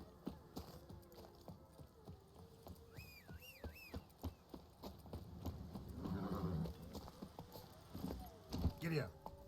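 Horse hooves pound in a steady galloping clip-clop across the terrain of The Witcher 3: Blood and Wine, loud and close, with a brief whinny and someone talking over parts of the run.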